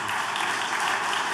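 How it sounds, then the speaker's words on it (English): A brewery talk audience at an interview event claps for a guest, a brief burst of dense, steady applause from many hands, moderately loud throughout. "I got everybody clapping for you on that."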